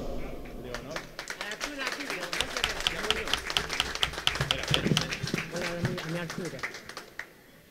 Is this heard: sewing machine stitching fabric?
no